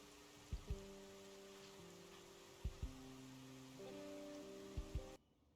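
Steady rain falls in the zombie survival game Project Zomboid, a quiet, even hiss beneath low sustained hum-like tones, with a few soft thumps in pairs before the sound cuts out abruptly near the end.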